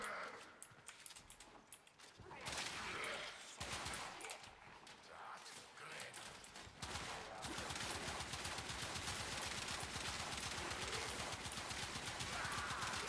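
Knell Prime pistol gunfire in the video game Warframe, sharp shots mixed with dense rapid bursts of game weapon fire and crackling effects, loud and continuous for much of the stretch.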